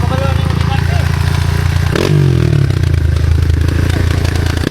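A motorcycle engine labors loudly and continuously close by while climbing uphill on a trail, with revving pitch shifts and clattering, while people talk over it.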